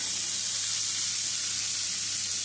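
Chopped onion sizzling in hot tempering oil for a vegetarian dish, a steady bright frying hiss that holds evenly from start to finish, close and fairly loud with no voices.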